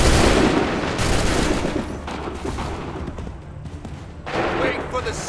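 Musket volley gunfire from Revolutionary War-era battle at Lexington and Bunker Hill in Assassin's Creed 3, a loud crackling burst of many shots at once, then a rolling rattle of scattered fire and a second surge near the end.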